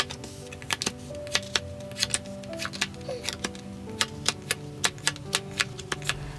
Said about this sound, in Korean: 세 번째 카드 더미를 고르신 파랑님들의 카드 오픈하겠습니다